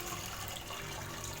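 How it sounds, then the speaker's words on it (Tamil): Water poured into a pan of toor dal with turmeric and garlic for sambar, a continuous gushing splash that stays steady and fairly quiet over the short moment, with no talk. "பருப்பு வேகிற அளவுக்கு தண்ணி"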